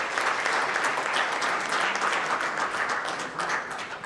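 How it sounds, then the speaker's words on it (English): An audience at a food systems challenge event claps for the pitching teams, a dense, sustained round of applause that gradually fades. "give them a big round of applause for the pitching"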